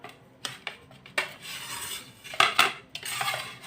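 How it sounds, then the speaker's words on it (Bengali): Slices of bread being cut with a knife in a home kitchen: scattered scraping and clinking knocks of blade and plate, irregular and close, with brief rasping bursts between quieter gaps. "প্রথমে রুটিগুলো কেটে নিচ্ছি।"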